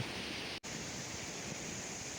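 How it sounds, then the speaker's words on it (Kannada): Water pours over the gate of Bethamangala dam, its steady broadband rush filling the whole clip with no talk, broken only by a split-second dropout early on. "ಗೇಟ್ ಮೇಲೆ ನೀರು ಬರ್ತೈತೆ ಅಷ್ಟು ನೀರು ತುಂಬೋಗೈತೆ"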